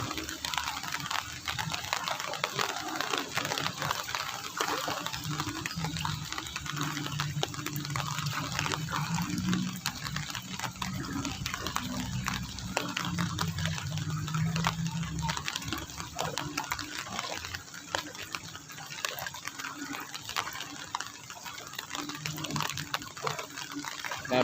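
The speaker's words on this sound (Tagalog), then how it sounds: "Grabe yung ilog dito" Steady, broad rushing of a fast-moving flooded river, continuous and fairly loud throughout, with no voices.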